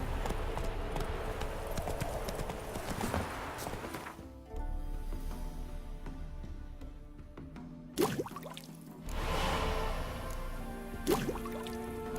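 Rhythmic clip-clop of horse hooves in the video game The Witcher 3, fairly close and steady, with a couple of pauses and sharper clatters between stretches of walking.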